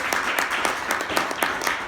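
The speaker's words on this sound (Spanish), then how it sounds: "Un aplauso para el Señor Jesucristo." Worshippers clap during a Sunday church service, many hands striking together in a brisk, fairly regular rhythm of sharp claps, loud and close, with no talking over it.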